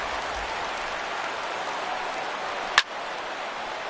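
A baseball stadium crowd of more than 39,000 keeps up a steady, distant roar of cheering and clapping, with one sharp crack cutting through near the end.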